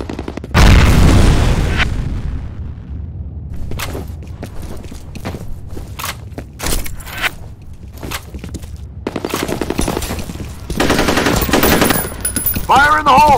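Grenade explosion and gunfire in the FEAR video game, opening with a heavy close boom, then scattered sharp shots and bursts of automatic fire, ending in another dense volley.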